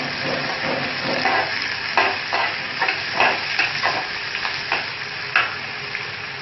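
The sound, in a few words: onions and green and red chillies frying in pan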